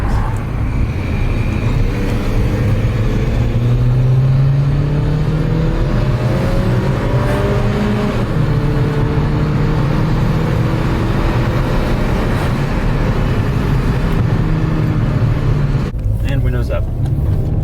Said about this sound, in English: Our first clip's going to be windows down, a little quick uphill pull, just so you can see how it sounds.